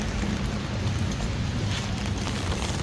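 Steady rain falls outdoors in the UK, a constant broadband hiss with low rumbling wind beneath it, unbroken and fairly close throughout.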